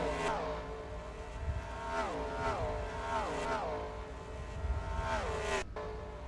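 Race cars in a NASCAR-style racing video game at Las Vegas roar past one after another, each flyby's engine note sweeping down in pitch, several passes in quick succession over a steady engine drone.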